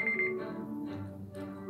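A timer alarm chimes in the Sims 3 Pets video game, a bright electronic tone repeating briefly over game music and background sounds, moderately loud and close.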